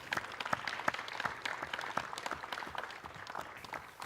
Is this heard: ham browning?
no